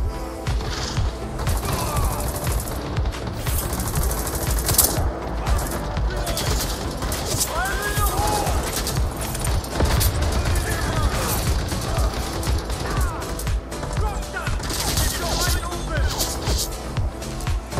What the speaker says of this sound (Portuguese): Olha o tiro passando em mim.